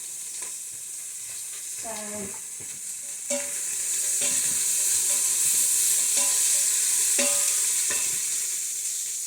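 Food sizzles steadily in a quick cooker for red lentil and spinach soup, with a few scraping stirs of a utensil against the pot and a brief spoken word.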